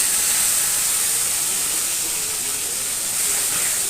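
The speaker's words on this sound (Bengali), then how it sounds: "মাছটা ভেজে নেব।" Tilapia fries in hot oil, a dense, even, loud hiss that holds steady without pause for several seconds.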